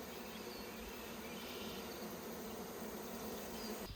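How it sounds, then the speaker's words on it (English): A package of Carniolan honey bees gives off a steady, dense, faint buzzing hum that fills the whole stretch without pause, close by and with no speech. "This is my package of carniolan bees."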